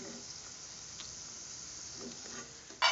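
Peanuts frying in hot oil in a pan, a steady soft sizzle and hiss with faint stirring scrapes, ending in a sharper, louder burst.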